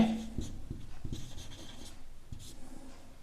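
A pen scratches across paper while a class 9 maths problem on a cone is worked out, with soft intermittent strokes and taps close by and no talking.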